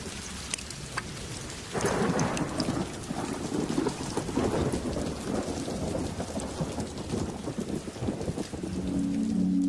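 Heavy rain pours steadily through a thunderstorm on the African savannah, with loud rumbles of thunder rolling in the background and dense rainfall hissing on the ground throughout.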